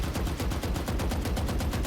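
Gunfire on a video game shooting training range, a rapid even stream of shots sounding like automatic fire, loud and continuous through the whole clip without speech.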